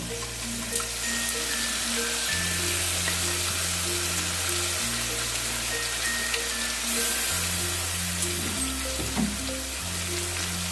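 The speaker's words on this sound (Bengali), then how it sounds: "এবার আমি নারকেল বাটাটা দিয়ে দেব" Ground coconut paste and spices fry in a pan for a mung dal and prawn dish, with a constant dense sizzle and a low steady hum running underneath, and no voices.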